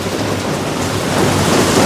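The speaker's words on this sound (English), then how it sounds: "So, I'm now here, caught in the rain." Heavy rain pours outdoors during a thunderstorm, a loud, dense hiss that swells slightly toward the end, with thunder rumbling low beneath it and no voices.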